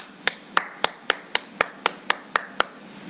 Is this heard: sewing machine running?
no